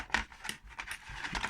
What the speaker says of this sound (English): If I could find some more wires and cut it in front of you.